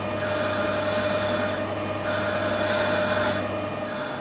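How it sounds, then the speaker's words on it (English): A hand drill turns slowly while reaming a hole in a brass gas inlet pipe out to a quarter inch for a DIY gas turbine. It gives a continuous, close grinding whine with a steady hum, broken twice by brief dips. "so I'm going to actually ream this hole out a quarter because I want it to be a really good fit."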